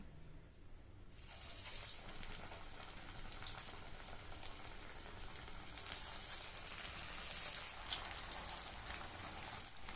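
Banana flower vadas sizzle in hot oil for a South Indian meal: after about a second of quiet, a loud, steady, crackling hiss starts and runs without a break. No one speaks.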